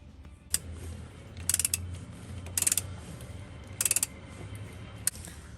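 Tightening the nut on a 1980 Toyota FJ45 transfer case yoke: short bursts of rapid metallic ratchet clicks repeat three times, interspersed with single sharp taps, close and otherwise quiet.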